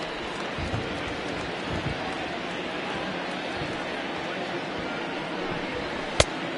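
Steady rain falls in an MLB The Show 20 baseball game, a dense even hiss throughout with a sharp click near the end, while a commentator talks.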